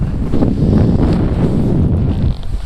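Strong wind of around 22 knots buffets the microphone while kitesurfing, giving a loud, continuous roaring rush with gusty surges and no talking.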